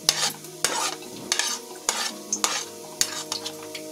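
Onion, capsicum, carrot and paneer being stirred in a hot pan for aloo or paneer nazakat, a utensil scraping in repeated strokes over a steady close sizzle with no voices.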